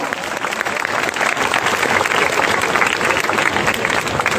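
A school audience at Omkar Educational Trust School in Dombivli applauds after an inspiring talk, loud dense clapping that stays steady throughout.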